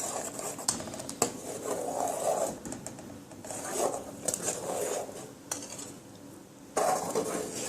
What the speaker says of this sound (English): You just keep stirring to keep your sauce nice.